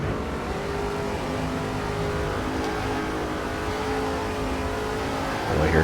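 A NASCAR race car in the NASCAR 2005 video game at Homestead, Miami, its engine a loud, constant roar at high speed, rising slightly at the end, with no voices.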